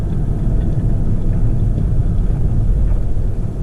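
A Volkswagen Golf GTI drives along, its engine a steady, fairly loud low drone mixed with road rumble from inside the cabin, with no voices.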